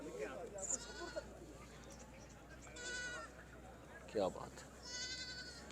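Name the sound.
goat bleating at an animal market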